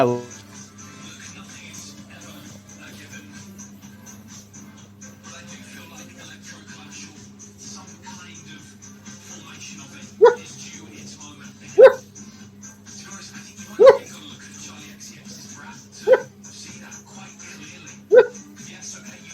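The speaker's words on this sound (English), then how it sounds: "What kind of dog" A dog lets out five short, sharp barks or yips at spaced intervals over quiet background hum, fairly close but not loud, with faint whimpering tones between them.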